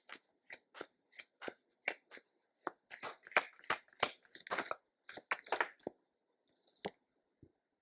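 Tarot cards are riffled and shuffled at close range, a rapid series of crisp, papery flicks and slaps in short bursts with brief pauses, quiet room with no talking.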